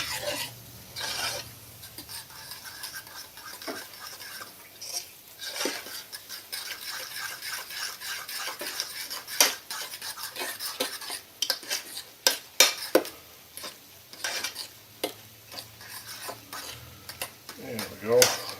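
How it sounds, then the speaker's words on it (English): A utensil scrapes and rasps against a bowl while potato flakes are stirred into a meatloaf mixture, giving irregular clinks and rubbing strokes with scattered sharp taps. "going to add my potato flakes now"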